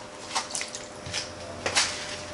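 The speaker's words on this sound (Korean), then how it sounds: "잡내 없애기 위해서 소주 한 잔만 넣어주세요" A glass of soju is poured into a pot of samgyetang along with onion, making a few brief, quiet splashes and drips close by.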